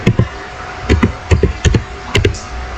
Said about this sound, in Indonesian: Kita ketik show IP.